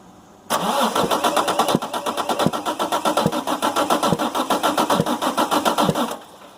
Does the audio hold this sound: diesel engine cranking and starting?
yes